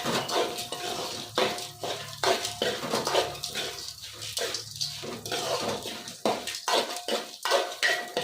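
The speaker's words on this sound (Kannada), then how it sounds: "ಎಲ್ಲದನ್ನು ಹಾಕಿ ಚೆನ್ನಾಗಿ ಹುಡ್ಕೊತಾ ಇದ್ದೀನಿ" Curry leaf chutney powder ingredients, including mustard seeds, are dry-roasted in a pan and stirred continuously, with repeated metallic scrapes and clinks of a spoon over a soft crackle.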